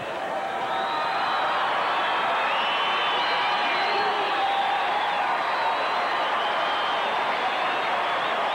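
Large stadium crowd at a 1987 TCU versus Texas Tech college football game, a dense continuous roar of cheering and chanting that holds steady and loud throughout, with no clear individual voices standing out.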